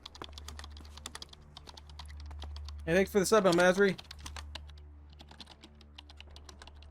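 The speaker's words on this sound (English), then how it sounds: "Typing." Computer keyboard typing: rapid, irregular clicking keystrokes close up over a low steady hum, pausing briefly while someone speaks in the middle, then continuing.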